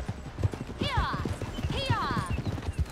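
Horse hooves gallop in a rapid, steady clip-clop rhythm in Red Dead Redemption 2, loud and close, under talk, with whistling wind or tonal sweeps overhead.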